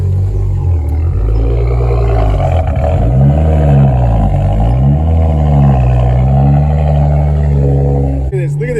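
A BMW E92 335i with a muffler delete roars loudly up close, its exhaust note rising and falling in repeated revs over nearly nine seconds, with brief voices partly underneath.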